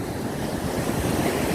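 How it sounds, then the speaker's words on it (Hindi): Ocean surf rolls in steadily under a strong wind, a dense, continuous wash of breaking waves and gusty air with no voices. "समंदर की लहरें आ रही है, हवा चल रही है"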